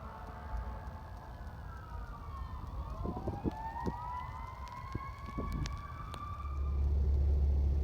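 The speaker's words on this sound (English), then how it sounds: "Hear the sirens in the background because" Emergency vehicle sirens wail in the distance on an icy winter day, several overlapping rising and falling tones sweeping over a steady outdoor rumble, with a few sharp knocks nearby and a low roar swelling at the end.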